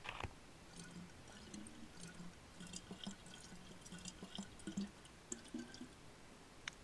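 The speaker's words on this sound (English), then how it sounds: "So now I can fill up this water bottle with clean water." Water trickles and drips at a well in the DayZ video game as a bottle is filled, producing faint, steady liquid dribbles with scattered drops over a low background hum.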